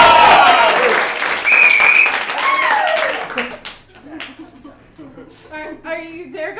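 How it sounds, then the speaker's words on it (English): A fringe-festival improv audience cheers, whistles and claps loudly for about three seconds. The applause then thins and fades while a performer starts speaking over a few lingering claps. "We're gonna cheer."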